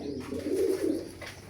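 A racing pigeon just back from a long flight gives a short, soft, low coo at close range, with faint background noise and no speech.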